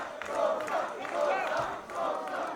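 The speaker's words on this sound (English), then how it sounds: "this PWH crowd coming to life just as Sosa did" A professional wrestling crowd at a PWH show roars and cheers in rising waves, a dense wall of voices that swells and ebbs several times.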